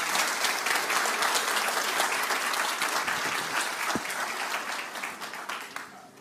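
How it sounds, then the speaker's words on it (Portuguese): A church congregation applauds as a guest pastor is welcomed to the pulpit, a steady wash of many hands clapping at moderate distance that gradually thins and fades toward the end. "Podemos receber esse homem de Deus aplaudindo"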